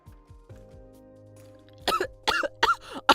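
Four sharp, close coughs in a voice-over recording come in quick succession after a soft, fading tonal passage.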